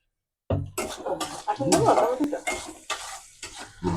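Onion and tomato being stirred in a hot pan while cooking an egg dish, with scraping utensil strokes and sizzling frying; people talk over it.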